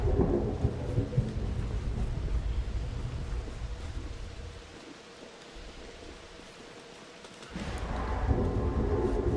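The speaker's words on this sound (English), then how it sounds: "The thunder sounds really bad." Thunderstorm in a survival roguelike open-world video game, heavy steady rain with loud rumbling thunder that fades to a quieter hush before another rumble rises, no talking.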